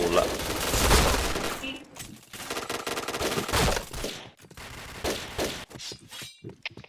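Bursts of rapid gunfire and scattered single shots from an online shooting video game crackle in uneven clusters, loud and close, with short gaps between volleys.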